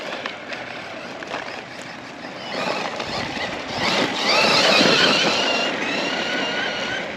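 An RC Polaris RZR off-road car driving at 75% throttle, a whining electric motor rising in pitch and loudness as it speeds up, with a high tonal whine near the end.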